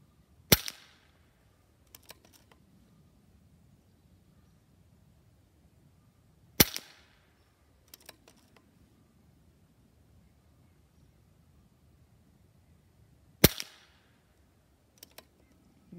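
A Diana Outlaw .22 caliber PCP pellet rifle fires three sharp, close cracks spaced several seconds apart on an outdoor range, each followed by a faint distant pellet impact and then quiet.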